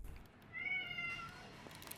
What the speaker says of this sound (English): And that is Nelly, the cat we rescued together with David